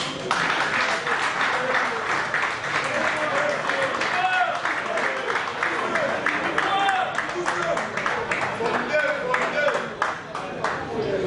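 A crowd gives a round of applause for a co-founder called up at a celebration after a club president's election in Angola, clapping steadily with voices and some chatter mixed in.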